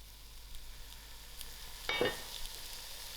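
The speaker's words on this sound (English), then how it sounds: "I'm going to lower my heat and allow this Loki to cook on a low heat." Loki (bottle gourd) dhal cooks over low heat in a pot, giving a faint, steady sizzle with a brief clink or stir partway through, quiet and with no talking.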